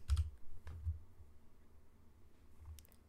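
Computer keyboard keys are pressed in a few quiet, scattered clicks, a short cluster at the start, another soon after and one near the end, with no talking.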